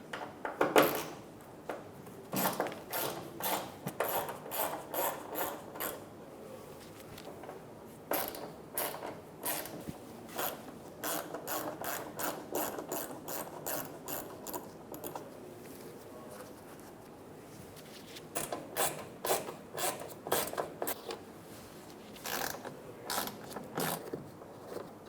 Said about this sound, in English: Using a T15 Bit, remove the 4 screws for the front of the mud flap.